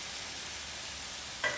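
Grated tomatoes and salt are stirred in a hot cooking pan, giving a steady close sizzle and frying hiss with a brief scrape near the end.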